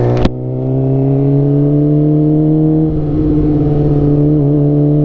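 A motorcycle with a suspected bad stator idles and runs on the road, a steady loud engine drone with strong low harmonics and a slight dip in pitch partway through, with no talk over it.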